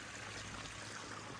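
Water running down a pipe and spilling onto lower land on an off-grid farm in the Algarve, a steady close trickling and pouring wash with no voices.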